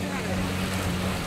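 A speedboat runs on the water at Paradise Beach in Goa, a steady low engine drone mixed with wind and surf, fairly faint and continuous, with voices in the background.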